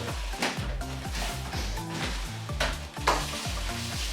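A sandwich pressed and heated in a sandwich press sizzles steadily while metal parts clack and scrape in a repeating rhythm nearby, with no talking.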